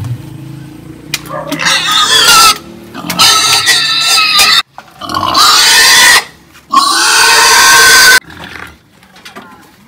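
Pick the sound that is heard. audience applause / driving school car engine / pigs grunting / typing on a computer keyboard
pigs grunting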